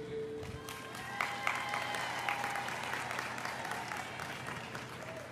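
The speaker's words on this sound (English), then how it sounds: "So let's applaud the athletes too real quick." A high school audience at Woodland High School gives a steady, moderately loud round of applause for the student athletes, many hands blending into a continuous wash with scattered voices and a few louder claps standing out.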